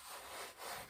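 Hands rubbing tanning solution into a bobcat hide make a soft, continuous, faint scrubbing friction sound, brief and steady with slight swells, no talk.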